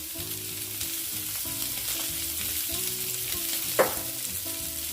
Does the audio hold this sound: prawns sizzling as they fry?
yes